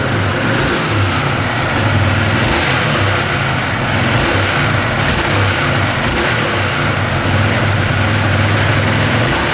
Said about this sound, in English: Give it a couple revs.